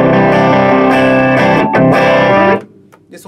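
Electric guitar played through a Hotone Nano Legacy mini amp, turned up until the tone breaks into distortion: a loud, sustained, saturated chord rings for about two and a half seconds, then cuts off into faint decay.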